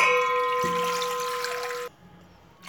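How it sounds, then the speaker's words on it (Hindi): Water poured into a cooking pot in a home kitchen, a steady loud splashing stream with a rising tone that stops abruptly near the end, leaving near quiet. "उसमें पानी डालेंगे"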